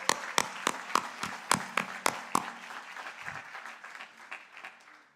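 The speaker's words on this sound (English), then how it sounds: "a big round of applause" Audience applause at the Sai99 SSE cultural program, a run of loud, distinct claps near the start that thins into a softer, scattered patter of clapping from the crowd before fading out.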